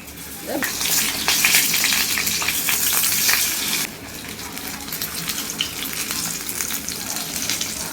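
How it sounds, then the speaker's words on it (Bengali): Loud sizzling of a second batch frying in a pan, a dense crackle for the first few seconds that drops to a quieter steady hiss, with occasional stirring scrapes and clinks. "এরপরে সেকেন্ড ব্যাচটা ভেজে নেবো সেম প্রসেসে"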